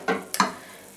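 Tadka spices hit hot oil for an aloo matar paneer in an Indian home kitchen, giving two quick crackling sizzle bursts that fade into a faint hiss.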